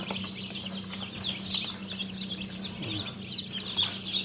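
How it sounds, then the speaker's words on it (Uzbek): Newly hatched chicks inside an incubator peep continuously in faint, high chirps over a steady low machine hum. "Mana shular hammasi jo'ja."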